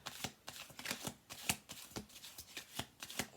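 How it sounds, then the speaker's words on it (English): A deck of playing cards being shuffled at a table, giving a quick run of close riffling bursts in an irregular rhythm with no talking. "One more shuffle through."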